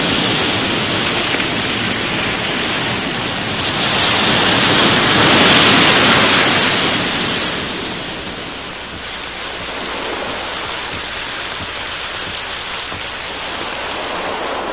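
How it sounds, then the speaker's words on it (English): Heavy storm rain pours steadily near a beach dune, a dense hissing wash that swells slightly in the middle and then settles, continuous for the whole stretch with no voices. "over the sound of the rain, he seems to hear the breakers from beyond the dune"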